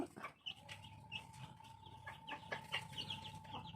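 Newly hatched black chicken chicks give soft, scattered high peeps, faint and close, over a low steady background hum.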